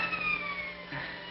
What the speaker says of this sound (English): Sounds like police sirens.